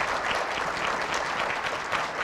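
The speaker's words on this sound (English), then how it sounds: "let's give the governor and the First Lady a round of applause" A crowd at a summit on saving children applauds the governor and the First Lady: dense, even clapping from many hands, steady and fairly full throughout with no break.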